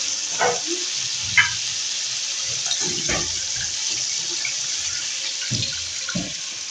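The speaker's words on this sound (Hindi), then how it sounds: "तो अब हमने इसके अंदर ऐड करना है पानी।" Water splashes into a cooking spice mixture for zeera pulao, a continuous hissing pour with a light sizzle, broken by a few soft knocks from the pot, nearby and without speech.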